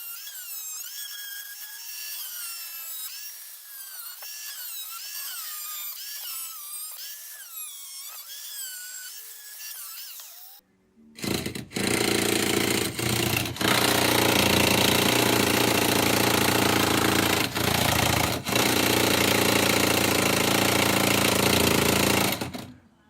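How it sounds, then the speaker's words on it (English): A power tool cuts through a metal plate during a hydraulic handbrake install on a drift car, starting after about ten seconds of quieter high-pitched sound and then running loud, harsh and continuous close up for the rest of the clip. "Now I just need to cut it off and we're pretty much done with the plate."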